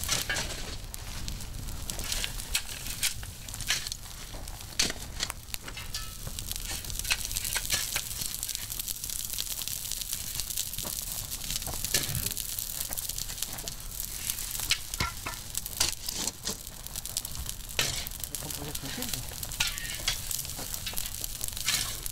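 A traditional pottery kiln firing black Bisalhães earthenware in northern Portugal roars with strong flames near the end of the firing, a steady broadband crackling rush with sharp pops throughout and no talk.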